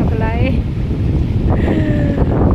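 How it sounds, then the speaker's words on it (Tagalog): Steady, loud wind buffets the microphone throughout, a low roaring rush with faint tonal whistles rising briefly above it. "Mahangin talaga sa labas."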